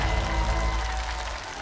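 Applause from a television dance-competition audience welcoming the next contestant to the stage: a dense, continuous wash of clapping, moderately loud and fading slightly toward the end.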